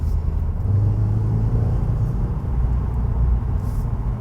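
A 2016 Subaru WRX on the road gives off a deep, steady engine rumble from inside the cabin, swelling slightly as it pulls, with a constant low drone and road noise and no talking.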